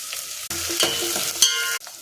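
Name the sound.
garlic and onion frying in a pan for fish curry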